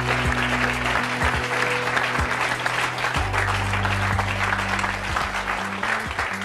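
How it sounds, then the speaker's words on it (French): A television studio audience applauds a woman guest as she is welcomed onto a French talk show. The clapping is loud, dense and continuous throughout, over a low steady hum, with no speech on top. "Je vous demande d'applaudir très fort Francine."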